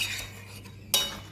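A spice mixture cooked down in a pan, with a quiet scraping stir and one sharp metal clink of the utensil against the pan near the end.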